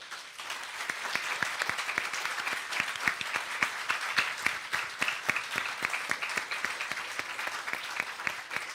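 Applause at a breakfast event from a modest-sized audience: individual claps stand out in a steady, moderately loud rhythm that carries on for nearly nine seconds.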